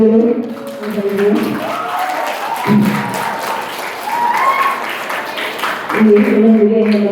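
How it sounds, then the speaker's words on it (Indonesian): Audience applause at a school graduation ceremony, a broad patter of clapping from a crowd held for several seconds, with a voice talking over it at the start and again at the end. "Ibu boleh tepuk tangan dulu, Bapak Ibu."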